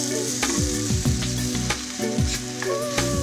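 Porcini mushrooms sizzling and frying in a hot pan, a steady loud crackle with repeated stirring scrapes throughout, no voices.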